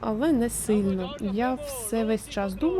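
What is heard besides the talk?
No everyday noise stands out behind the speech.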